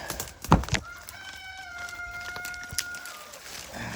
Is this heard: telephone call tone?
no